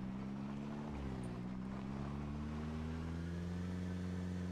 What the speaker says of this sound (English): The engine's giving out.